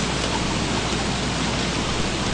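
Rain in the video game Don't Starve, a dense, even hiss of falling rain that stays constant and fairly loud throughout, with no talking.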